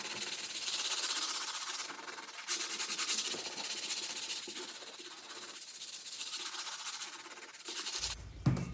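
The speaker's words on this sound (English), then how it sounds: "I started off with sanding off the top" Repeated rasping strokes of sanding on a surface, rising and falling in bursts, close and fairly loud, ending with a brief low thump.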